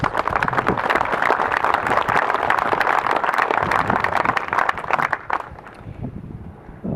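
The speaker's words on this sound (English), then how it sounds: "Let's give those folks a round of applause." Audience at a construction project event breaks into sustained applause, a loud, dense mass of clapping that holds steady for about five seconds, then fades off quickly into a quiet room.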